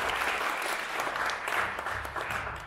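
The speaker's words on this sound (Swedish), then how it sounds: "ska vi ge en applåd till den där och den andra då?" An audience at a live band performance in Luleå claps in sustained, dense applause, steady and moderately loud for the whole stretch.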